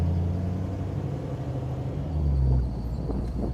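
A 1934 Plymouth car engine pulls on the gas with a steady, close low rumble that swells briefly before settling, with no voices over it.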